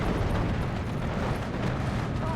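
Battle explosions from Steel Division 2 as elite Sherman tanks are destroyed by opposing tanks: a dense, steady low rumble of blasts and mechanical din at moderate level, with faint voice chatter underneath.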